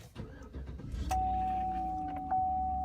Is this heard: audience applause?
no